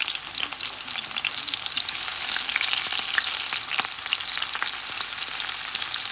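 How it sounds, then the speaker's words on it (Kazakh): Onions sizzling in oil in a hot frying pan for Kazakh-style meatballs, a steady bright crackle with occasional pops and faint stirring, close and constant, no voices. "Енді қызып тұрған тапада алдымен пияздың қосыламыз"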